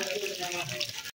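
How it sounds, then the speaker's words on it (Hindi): Mountain water continually falling near the Elephanta caves on Elephanta Island, Mumbai: a steady, close splashing trickle with a voice faintly audible beneath it, ending in an abrupt cut to silence. "यहाँ पे हमेशा पानी गिरता रहता है। जो पहाड़ का पानी होता है ऐसा ही गिरता रहता है।"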